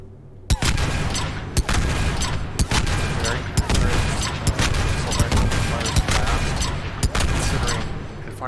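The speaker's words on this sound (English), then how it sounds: "Fires slow for an assault rifle" Assault rifle in Mass Effect 3 firing a steady run of shots at a slowish rate, loud and dense, with sharper report spikes roughly every second over sustained gunfire and battle noise.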